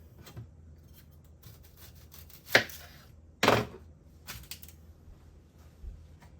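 A knife cutting an onion on a board: a few isolated, close chopping strikes with a gritty slicing crunch, separated by quiet pauses, and no talking.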